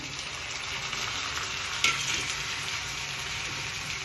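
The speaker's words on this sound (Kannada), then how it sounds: "ಈರುಳ್ಳಿ ಸ್ವಲ್ಪ ಫ್ರೈ ಆಗಿದೆ. ಈ ಟೈಮಲ್ಲಿ ಟೊಮೊಟೊ ಸೇರಿಸ್ಕೊತಾ ಇದ್ದೀನಿ." Onions and tomato fry in hot oil with a steady, dense sizzle throughout, close and even, with one brief sharper crackle partway through and no talking.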